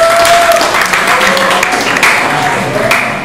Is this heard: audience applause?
yes